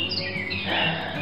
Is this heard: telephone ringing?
no